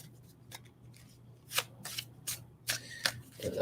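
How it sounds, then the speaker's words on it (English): Tarot cards being shuffled by hand, heard as a series of short, crisp riffling bursts with brief pauses between them, close and fairly quiet over a low background hum. "As I shuffle the cards"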